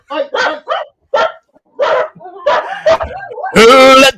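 A dog barks close by in a run of about eight short, sharp woofs and yelps with brief gaps, finishing on a longer, louder, harsher bark.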